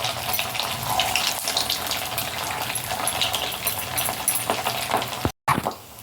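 Patties sizzle in a kadhai with a little oil, giving a steady loud crackling hiss throughout, with a short break near the end, and no voices over it.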